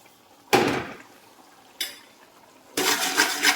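Semiya and rava are stirred in a pan with a ladle, producing three distinct bursts of scraping and sizzling, the last one longer and steady, with quiet gaps between.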